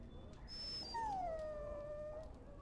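A dog whimpers in a Dragon Age: Origins scene, a long falling whine over a low ambient game background, with a faint higher whistle-like tone before it.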